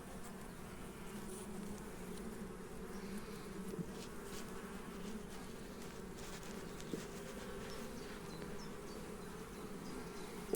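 A steady, dense buzzing of many bees around an open Voirnot hive fills the air, constant and close, with no talking.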